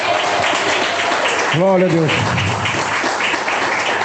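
A church congregation applauds steadily throughout, a dense continuous clapping wash, with a voice briefly calling out over it.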